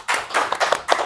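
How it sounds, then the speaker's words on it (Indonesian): A small group at a teachers' training session on positive school discipline clapping for a presenter, Pak Bayu; sharp separate hand claps in an uneven rhythm, close and fairly loud, with no talking. "tepuk tangan untuk Pak Bayu"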